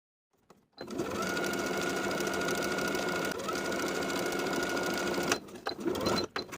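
A sewing machine edge-stitches along the upper inner fold of a garment hem, running in one long, steady, loud burst of rapid stitching, then stopping with a few brief handling noises at the end.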